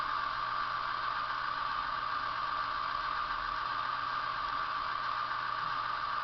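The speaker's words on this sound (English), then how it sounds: "the engines there, very like the typical DMU engine sound" Bachmann Class 108 DMU model railway locomotive running a Zimo MX648R sound decoder through an Eckig speaker, giving a steady mid-rev diesel engine drone, even and continuous throughout with no talk.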